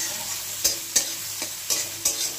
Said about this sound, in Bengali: এই যে পেঁয়াজটা ভাজছি না